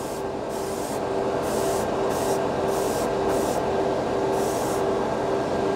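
An airbrush sprays Vallejo Premium paint onto a clear Lexan body, making a continuous loud, close hiss with regular short bursts as the trigger is pulsed.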